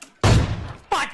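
An M24 sniper rifle fires in PUBG: one sudden, loud boom with a long fading tail, then a second sharp burst a moment later.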